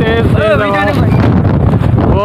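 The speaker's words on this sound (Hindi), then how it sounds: "बहुत तेज हवा चल रही है।" Strong wind roars and buffets the microphone outdoors during a heavy rainstorm that is whipping a neem tree, while someone talks loudly over the constant gusting rumble.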